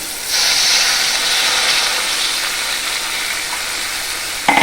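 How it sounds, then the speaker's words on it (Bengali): Water poured into a pan of fried spice paste for a Tangra fish and aubergine curry sets off a sudden loud, steady hiss that fades slowly. A clatter comes near the end, and no one speaks. "মশলা কষানো হয়ে গেছে, এখন আমি জল দিয়ে দেবো এতে।"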